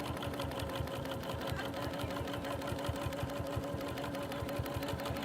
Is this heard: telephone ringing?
no